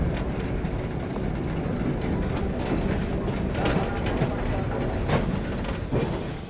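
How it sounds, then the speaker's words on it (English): Steady, loud rumble of the steam train Tornado crossing the River Tyne, with rhythmic clatter of wheels over rails, continuous throughout with no pauses. "the whole train is heading across the Tyne to turn around"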